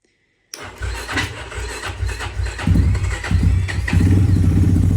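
An Avantis Enduro 2 Chinese enduro motorcycle with a weak, nearly flat battery starts up after a moment of silence, catching quickly and settling into a loud, close, rattling idle with no one talking.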